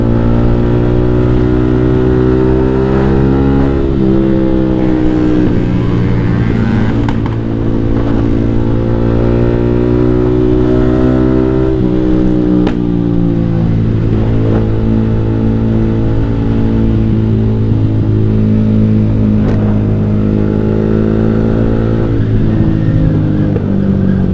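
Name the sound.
motorcycle revving with JB159 trioval exhaust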